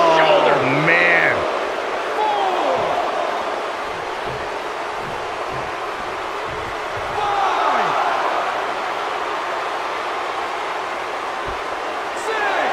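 A dense arena crowd roars steadily at a WWE 2K19 wrestling match between Yokozuna and Mr. Perfect, swelling loudest at the start and again midway, with no clear voices above it.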